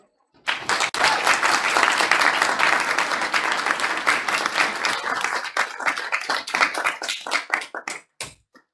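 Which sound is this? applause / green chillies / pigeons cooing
applause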